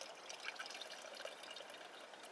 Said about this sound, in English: And pour a little of that juice in there to